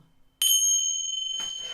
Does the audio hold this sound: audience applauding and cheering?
no